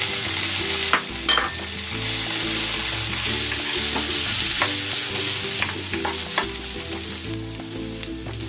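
Sliced onion and pork belly sizzle steadily in a hot pan as they sauté, a loud continuous frying crackle broken by occasional scrapes and clatters of the spatula against the metal.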